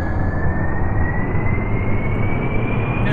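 A fast aircraft's jet engine roars loud and steady in the Kerbal Space Program video game, a constant near rumble with a thin whine rising slowly in pitch and no talking.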